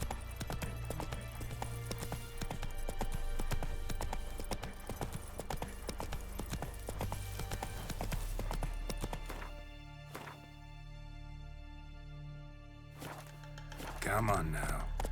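Horse hooves clip-clopping at a steady walking rhythm in the video game The Witcher 3, close and continuous with background music, a brief whinny near the end and someone speaking.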